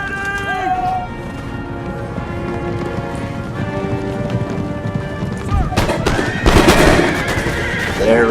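Cavalry horses charging in an Empire: Total War battle between US and Huron forces, with loud whinnies and a rising rumble of hooves and musket shots near the end, set against steady battle ambience and a voice speaking.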